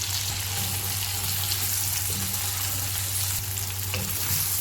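Chopped onions frying in refined oil in a pan, a continuous close sizzle with a low steady hum beneath and occasional faint stirring, no voices.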